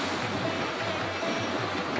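Tap water at a temple runs hard and steady, a close, continuous rushing hiss with no break and no voices.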